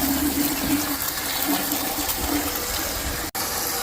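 Cold water from a hose pours into a bucket, a steady close gushing rush with a low hum underneath and a brief cut near the end.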